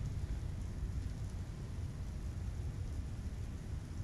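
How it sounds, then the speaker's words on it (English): Rain falling in the space game Star Citizen, a steady low rumbling wash of noise that stays even and moderately quiet throughout, with no voices. "Oh, there's the rain, bro. You hear it?"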